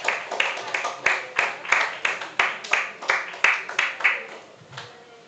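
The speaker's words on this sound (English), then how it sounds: "Students, give your parents a round of applause." At a school class of 2025 graduation ceremony, people clap in unison for the parents: about fourteen evenly spaced, crisp claps in a steady rhythm that ends just before the close.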